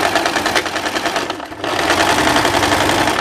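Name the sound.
sewing machine stitching blazer lining seams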